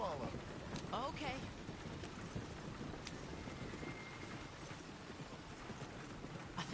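Horse hooves clip-clop steadily along a road in the video game Red Dead Redemption 2, a close, even rhythm running throughout over a dense bed of rain-like ambient noise, with brief voices in the background.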